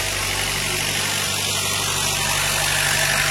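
A car engine idles steadily nearby, a continuous low hum with a faint mechanical buzz and no talking.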